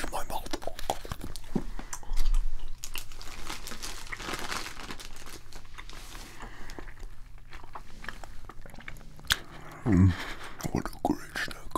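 Sticky lemon gummy candies are chewed close to the microphone, with wet, tacky mouth clicks and smacks, soft crinkling and a brief crunch, under whispered talk.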